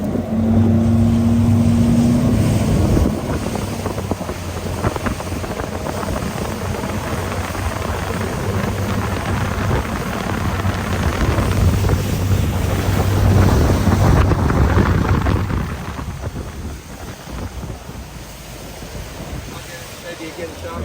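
A Vexus VXS20 bass boat is running on plane across open water, its engine a loud steady drone with rushing hull and wind noise throughout, a tonal whine early on and a fading, quieter wash near the end.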